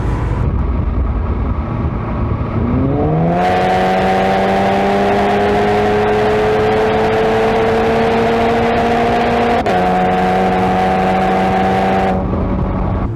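Stock turbocharged VW Golf 7R engine and exhaust revving up, rising harmonic tones climbing steadily and holding high before a brief dip and settling, loud and close, with no talking.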